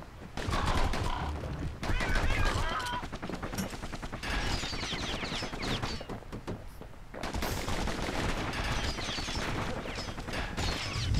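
Enemies shooting in the action game Bastion: rapid rattling bursts of fire in several loud volleys separated by short gaps, with busy game effects mixed in.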